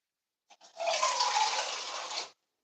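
Water is poured into a pan of Hamburger Helper noodles in a short close splash and gurgle lasting under two seconds, preceded by a couple of tiny drips, with no talk.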